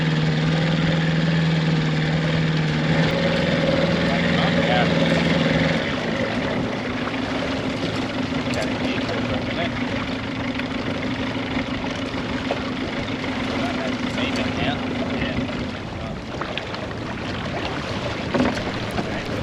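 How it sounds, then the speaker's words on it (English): A sailboat's motor drones steadily while the boat motor sails into a headwind, a constant engine hum with water and wind noise, loud and unbroken across the stretch. "so we decided to motor sail for a bit"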